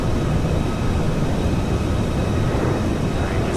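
Loud, steady broadband roar fills the cabin of an Alaska Airlines airliner in flight, a constant engine and airflow rush with no breaks across the short stretch.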